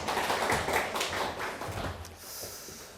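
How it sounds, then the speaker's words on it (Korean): Audience at a construction safety engineer exam success talk gives a round of applause, steady crowd clapping throughout before fading slightly near the end. "자, 다시 한 박수"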